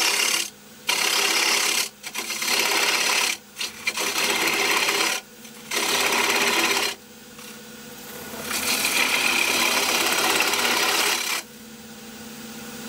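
A gouge cuts wood on a woodturning lathe as a bowl edge is shaped for a sword project: bursts of loud, raspy scraping with brief pauses between passes, then a longer continuous cut.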